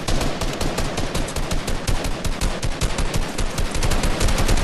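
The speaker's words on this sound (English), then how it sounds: "Yeah, I'm shooting at you." Rapid automatic gunfire from a player's gun in a video game, a loud, unbroken stream of sharp shots at a steady fast rhythm, close and alone with no talk.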